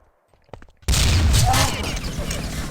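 Grenade blasts in an online multiplayer shooter match: a few faint muffled pops, then a sudden loud burst of explosions and gunfire that stays dense and roaring to the end.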